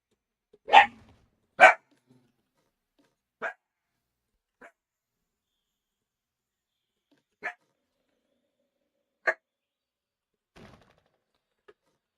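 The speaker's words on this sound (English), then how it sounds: "Hey, dog, relax." A dog in the Planet Zoo video game barks in sharp, isolated yelps, two loud ones close together, then several fainter, widely spaced barks with silence between them.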